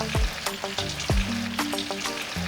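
Plantain frying in hot oil gives a close, steady sizzle, with a few sharp clinks and knocks from cookware in the short stretch.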